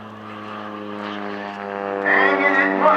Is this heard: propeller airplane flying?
yes